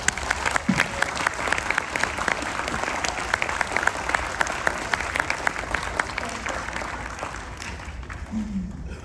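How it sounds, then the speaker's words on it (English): An audience applauds a ship's captain, a full, lively burst of clapping with sharp individual claps popping out, sustained for about nine seconds before thinning slightly at the end. "I kindly ask you for a big round of applause for the master of the vessel, Captain Roberto Leotta."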